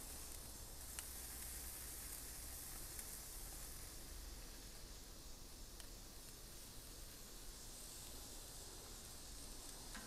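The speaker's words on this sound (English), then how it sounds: "Man, I love that sizzle." A flat iron steak on a grill gives a soft, steady sizzling hiss that stays faint and even throughout, with no talking.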